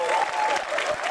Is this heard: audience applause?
yes